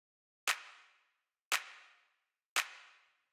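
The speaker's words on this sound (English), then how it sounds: "Next thing that we have here is the clap" Sampled hand-clap hit for electronic music, three sharp identical claps about a second apart, each with a short decaying tail, clean and alone.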